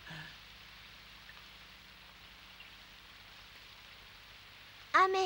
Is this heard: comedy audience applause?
no